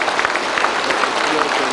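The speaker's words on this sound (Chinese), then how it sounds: "全体起立，掌声雷动" An assembled audience at a conference centre in Zambia stands and applauds as Hu Jintao and the Zambian president enter the hall, with a loud, continuous wash of clapping throughout.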